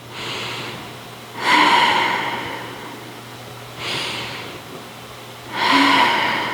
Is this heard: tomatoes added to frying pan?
no